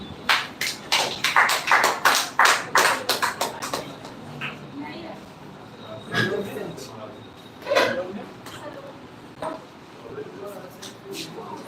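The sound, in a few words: audience clapping for a speaker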